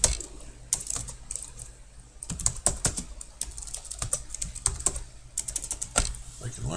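Rapid typing on a computer keyboard while entering title block names in a drawing exercise, with irregular bursts of close key clicks and short pauses between runs.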